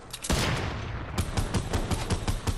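Rapid gunfire in Fortnite peppers a tree, a dense burst of loud, close shots fired in quick succession, with no voices over it.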